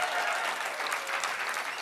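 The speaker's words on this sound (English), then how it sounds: "You want to do like one huge round of applause to just get this thing going?" A storytelling night audience in Boston breaks into a big round of applause, a dense, loud wash of many hands filling the room without pause.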